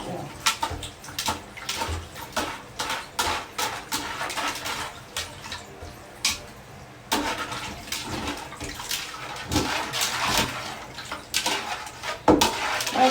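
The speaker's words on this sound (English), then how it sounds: "I just give it a final fresh water rinse" Fresh running water splashes over an already plucked bird in a home kitchen, an uneven stream of close, gurgling pours and spatters with brief pauses, rising and falling over about thirteen seconds.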